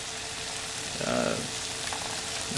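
Crappie fish frying in a pan, with a steady, continuous sizzle and crackle, close and even throughout, briefly swelling louder partway through.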